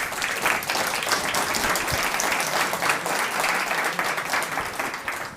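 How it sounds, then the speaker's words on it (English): Steady applause from a large crowd at a startup demo day, dense and continuous clapping at even loudness throughout, with no voices standing out. "One more time, can we give them a big round of applause?"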